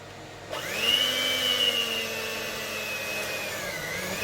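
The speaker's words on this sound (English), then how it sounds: "So I start by creaming the butter and sugar." Electric mixer creaming butter and sugar for shortbread, whirring on suddenly with a steady high motor whine that shifts pitch slightly as it runs, close and alone.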